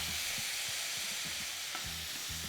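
Pineapple pieces frying with brown sugar in a pan, giving a soft continuous sizzle with a few low thumps and light handling knocks, fairly quiet and close.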